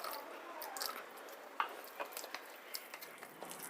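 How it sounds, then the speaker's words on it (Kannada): Idli batter being mixed by hand with a splash of water, giving soft wet squishing and squelching strokes at a gentle irregular pace, close but faint, with no voices. "ಇವಾಗ ಎಲ್ಲನೂ ಮಿಕ್ಸ್ ಮಾಡೋಣ ಒಂಚೂರು ನೀರು ಹಾಕ್ತೀನಿ"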